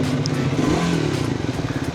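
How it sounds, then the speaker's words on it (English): A Triumph Speed 400 motorcycle engine revs on a highway ride, loud and close, its pitch rising and falling with throttle amid wind rush and mechanical clatter, with no talking. "The sound is a little different because of the intake. It breathes a little better, it revs nicely."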